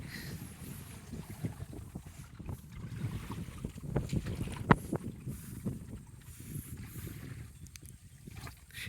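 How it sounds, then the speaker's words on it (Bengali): A boat on a river is pushed along with a bamboo pole, giving soft, irregular water sloshes and splashes close by over a low wind rumble, with occasional sharper knocks. "বাসার লগে দিয়ে ঠেলা দিলে নৌকা জোরে জোরে চলে বইটার চেয়ে বেশি"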